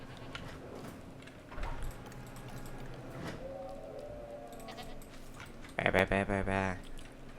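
Goats bleating at a goat feeder in a Jurassic World park-building game, a short burst of several harmonic bleats near the end, loud and close, after a stretch of quieter game ambience with some talk.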